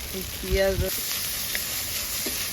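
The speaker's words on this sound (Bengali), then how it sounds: "তো আরও কিছুক্ষণ মশলাটা কষিয়ে নিচ্ছি" Spice paste of onion and garlic paste with salt frying in oil for a snakehead fish and gourd curry, a steady close sizzle running beneath a person talking.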